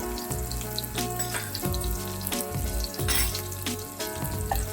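Chopped onions and garlic frying in olive oil, a steady crackling sizzle with intermittent clatters of stirring, heard close with no voices.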